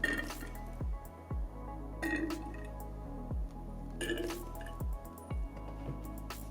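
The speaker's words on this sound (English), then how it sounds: "I'll start draining the coolant again." Coolant draining from a water-cooled PC loop during a flush, heard as quiet drips and liquid squishes with occasional clinks, recurring in short bursts about every second.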